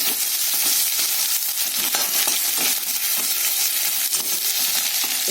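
Fish head and spices sautéing in hot oil in a pan for a hilsa and eggplant curry, a dense continuous sizzle with stirring scrapes throughout, close and loud with no talk.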